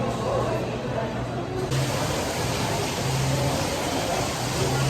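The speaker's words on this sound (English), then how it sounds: "while this rainstorm is going on" Heavy rainstorm pouring down at Disney's Hollywood Studios in Florida, a dense, steady hiss of rain that swells louder partway through, with faint background murmurs.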